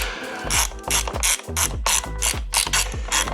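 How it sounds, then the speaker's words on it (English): A quarter-inch drive ratchet clicking in quick bursts of pawl ticks during an engine swap on a BMW E36 318is, close and loud, with brief pauses between strokes and no talk. "Good little quarter drive ratchet."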